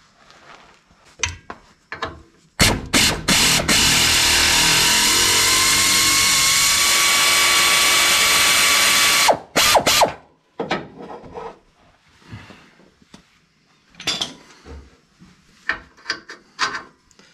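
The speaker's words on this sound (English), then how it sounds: "let's see if this air ratchet will take that out" An air ratchet runs on a bolt during a lift kit install on a 2004 Ford F150, one sustained loud whirring burst of several seconds, bracketed by short clicks and clanks of tool handling.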